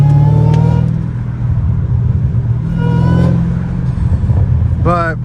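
A Hellcat Redeye with a cat-back exhaust rumbles loudly up close, swelling in a deep rev at the start and again midway, with a brief squeal near the end.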